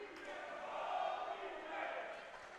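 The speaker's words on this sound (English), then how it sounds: "As the Blue Jay crowd starting to get into this one" Blue Jay fans in the stands at a college water polo game against Navy, a broad sustained crowd roar that swells and ebbs in two waves, steady and distant-sounding with no clear individual voices.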